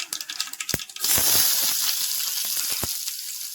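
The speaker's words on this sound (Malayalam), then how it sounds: "ഇച്ചിരി എണ്ണ വെച്ചിട്ടുണ്ട് വെളിച്ചെണ്ണയാണേ കടു ഇട്ട് പൊട്ടട്ടെ" Mustard seeds go into hot coconut oil with a few sharp pops and clinks, and then a strong sizzle rises and settles into a steady frying hiss with a couple more distinct pops.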